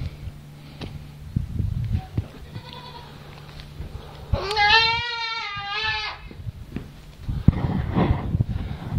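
Goats on a farm give one loud, clear bleat with a wavering tremolo in the middle, surrounded by rustling, sniffing and shuffling noises nearby.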